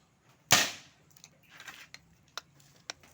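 A homemade DIY air gun fires a single sharp, loud shot up close, followed by faint rattling and a few small ticks in an otherwise quiet space.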